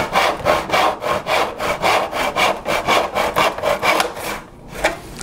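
Handsaw rasping through wood for a glass-tile mosaic trivet, loud rhythmic back-and-forth strokes close up, about a dozen in steady succession before slowing and stopping near the end.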